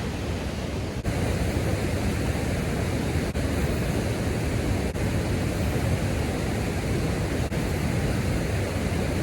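A river waterfall on a trout fishing stream rushes with a loud, constant, broadband roar, close by and unchanging throughout, with no voices heard.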